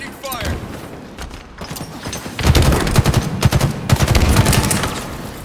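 Gunfire from a Halo Infinite multiplayer match: dense bursts of automatic fire and impacts, loud and continuous through most of the stretch, with game voice and player talk mixed in.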